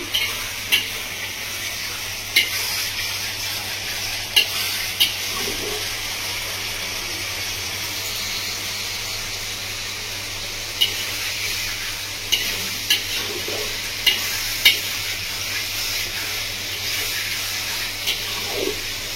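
Masala for a Bengali village-style katla fish curry with raw mango is stir-fried in a pan, giving a steady close sizzle broken by regular scraping knocks of a spatula every couple of seconds.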